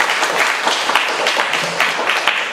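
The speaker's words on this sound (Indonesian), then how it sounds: "Boleh tepuk tangan." An audience at a book discussion applauds, a dense, even clatter of many hands clapping together, fairly close and sustained throughout.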